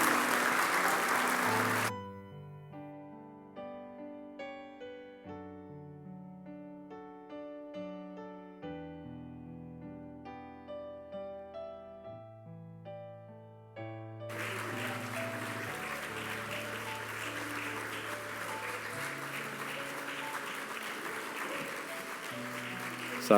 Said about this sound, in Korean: 여러분 박수로 이분들을 격려해 주시면 좋겠습니다.